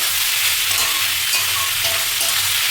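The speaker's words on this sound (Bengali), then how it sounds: "এগুলো একটু ভাজা ভাজা হবে।" Chopped capsicum and chilli sizzle loudly in a hot pan for fried rice, a dense continuous hiss with soft scraping as the vegetables are stirred, no voices.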